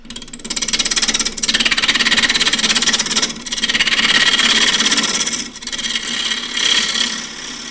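A wooden wig stand spins on a wood lathe while a gouge cuts it, giving a continuous loud rasping, scraping hiss with a few brief dips as the tool lifts away, and no talking.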